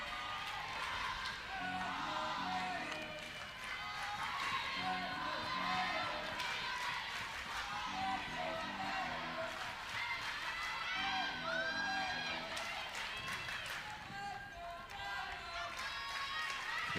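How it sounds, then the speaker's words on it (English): A crowd at Getterman Stadium during an Oklahoma State vs Baylor NCAA softball game makes a low, distant murmur with scattered cheers and whoops under ongoing commentary. "Crowd making noise here at Getterman Stadium."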